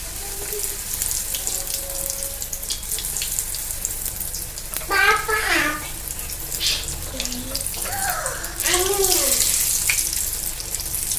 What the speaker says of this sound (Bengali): আমার হিঙের কচুরি কিন্তু ফুলে উঠছে, সুন্দর করে ভাজা হয়ে যাচ্ছে।